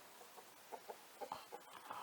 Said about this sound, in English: here's all of our chickens